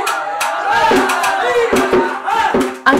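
A crowd of regulars at a Tokyo minyo folk-song show cheers and shouts loudly, with voices rising in excited bursts and sharp claps breaking through the lively noise.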